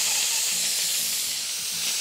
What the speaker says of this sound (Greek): γυρνάμε τη βαλβίδα από συμπίεσης